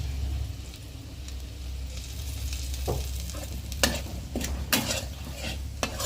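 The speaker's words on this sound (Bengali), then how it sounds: "ময়দাটা দিয়ে একটু নাড়াচাড়া করে" Flour is stirred with garlic in a pan for a white sauce, a soft steady sizzle over a low background hum, broken by several sharp scrapes and taps of a spoon against the pan.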